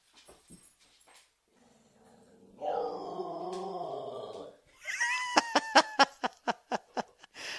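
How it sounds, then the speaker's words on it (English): A pet dog indoors lets out one sustained, wavering howl for about two seconds, followed by a rhythmic run of short, sharp yelps, close and fairly loud. "get a breed that fucking howls"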